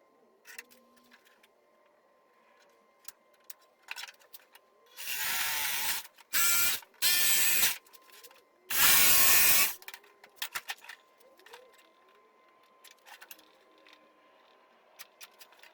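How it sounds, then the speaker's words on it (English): Handheld router cutting a solid-surface plate along a template: several loud, broad bursts of cutting a second or two each, separated by short pauses, with quieter handling clicks before and after. "you can use a router for this"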